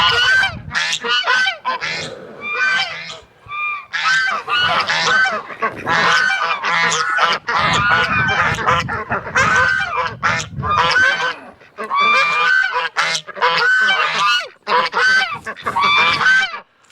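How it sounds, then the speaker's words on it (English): A flock of geese honks loudly and continuously, with overlapping harsh calls packed close together and barely a pause. "we got 4 geese, Kevin, Grace Jones, 3 drakes and 9 girls"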